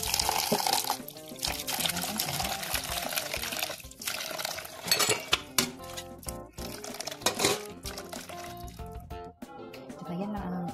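Bitter gourd (ampalaya) being rinsed in water, with splashing and trickling against a bowl or sink and occasional dish clatter, with people talking over it.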